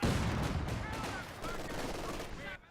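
Dense wartime battle din from Company of Heroes 2, with a Vickers machine gun chattering amid mortar and gunfire, a continuous loud roar of overlapping shots and blasts that drops off abruptly at the end.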